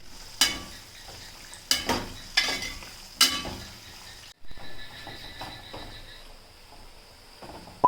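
Raw banana slices for Onam chips go into hot oil: several sharp crackling bursts in a row, then a quieter, steady bubbling fry close by, with no talk.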